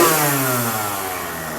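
Old Kawasaki KX85 two-stroke dirt bike engine running just after a kick start, choke on, a loud close revving note that slowly falls back as the throttle eases off.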